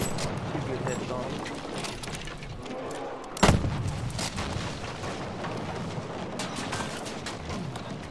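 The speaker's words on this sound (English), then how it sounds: "Artillery going on behind us." Artillery fire in Battlefield V, one sharp loud blast cutting through a constant din of distant battle rumble and scattered gunfire, with voices talking throughout.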